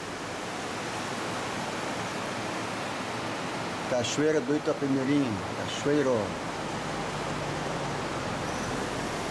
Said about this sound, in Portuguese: Está começando a chuva, daqui um pouquinho nós voltamos com mais filmagem.